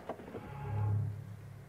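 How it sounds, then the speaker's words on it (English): A 2023 Mercedes-AMG EQE SUV plays its locking goodbye sound, a soft low humming tone that swells and fades over about a second, close by with no talk. "It's like an AMG goodbye sound."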